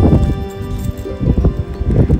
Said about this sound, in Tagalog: naririnig nyo yung hangin ang lakas